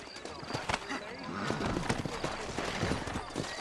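Horses in the Western video game Red Dead Redemption, with clip-clopping hooves and a whinny amid busy game sound.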